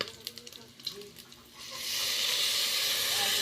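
Soy sauce hits hot frying pork adobo and breaks into a loud, steady sizzle and hiss as it is stirred, after a quieter stretch of scattered clinks and softer frying.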